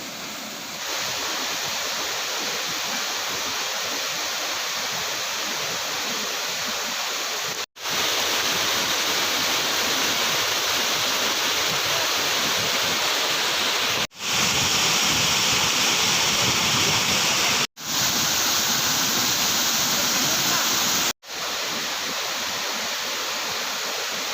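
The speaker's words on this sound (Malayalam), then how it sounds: "വലിയ താഴ്ചയിലേക്ക് ഈ ഓലിയൊരു വെള്ളച്ചാട്ടം പതിക്കുകയാണ്" A waterfall plunges into a deep drop in a steady, loud, close roar of cascading water, broken by a few sudden cuts.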